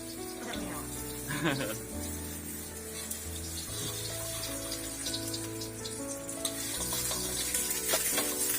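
Eggs frying in a pan, a steady low sizzle running under children talking and exclaiming nearby, with occasional clinks of a utensil.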